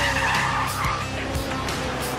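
A Ferrari 458 Italia drives hard with its tires skidding and squealing, close and loud over the engine note, in a short continuous burst of screeching.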